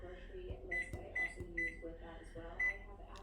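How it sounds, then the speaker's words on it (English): Kitchen timer being set in a home kitchen: a quick series of about four sharp electronic beeps with button clicks, close and fairly quiet. "I'll set my kitchen timer to 30 minutes."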